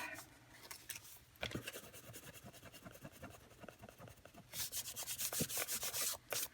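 Dried glue rubbed off a planner cover, a close, dry scratchy rubbing in short repeated strokes that grows faster and louder toward the end, with no talk.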